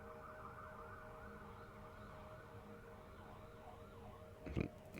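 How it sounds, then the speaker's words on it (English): Emergency vehicle sirens wailing far off, a faint rising and falling tone steady over the background hum, with a short thump near the end. "And I'm hearing sirens now."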